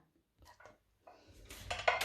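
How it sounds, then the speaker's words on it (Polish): Ovenproof dish for home-baked pot bread set into an oven, a few soft knocks followed by louder close metallic clatter and scraping of the dish and rack. "Naczynie żaroodporne wstawiam do piekarnika i nastawię temperaturę 250 stopni"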